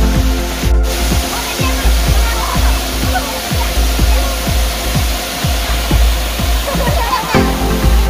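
Malawor waterfall near Makbon, a loud steady roar of falling water, with a rhythmic repeated low knocking running underneath.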